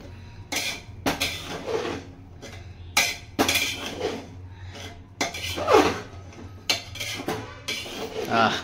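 Pulao is mixed in a pot with a metal spoon, producing irregular bursts of scraping and clinking against the pot's sides, separated by brief pauses, with some faint background voice between strokes.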